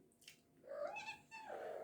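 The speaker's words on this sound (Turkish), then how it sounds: "Küçük kedi geldi." A small cat meows two or three times, soft drawn-out cries at moderate distance in an otherwise quiet space.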